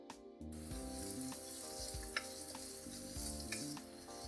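Browned onions fry in a pan as turmeric powder is added, a steady close sizzle with a couple of brief stirring taps, quiet overall and no voices.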